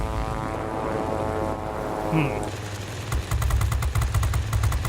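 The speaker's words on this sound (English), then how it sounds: "Big, strong American plane with lots of horsepower" A big American warplane, a P-39N-1, roars through a dogfight in World of Warplanes, a loud droning propeller engine that rises and pulses toward the end, with brief game effects over it.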